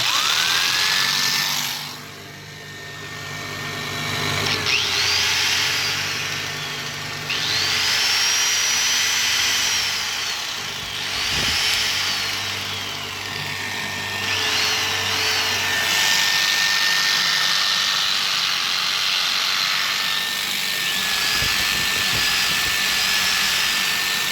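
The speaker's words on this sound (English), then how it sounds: "And then I'll run the grinder separately." A bench grinder running in a shop off a truck-mounted inverter on a 2017 Silverado, a loud steady whine that rises and falls in pitch over the whole stretch.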